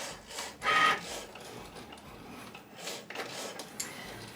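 A Cricut cutting machine works through cardstock sticker paper, whirring motor passes rising and falling alongside fine ticking clicks, close and steady with no talk.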